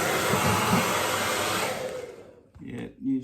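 A blow dryer blasting hot air to loosen ice runs steadily and loud as a broadband whoosh, then cuts off near the end, leaving a few brief low knocks.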